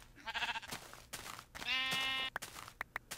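Sheep bleating in the video game Minecraft: several short, nasal bleats in quick succession, one longer drawn-out cry in the middle, fairly close with no talk over them.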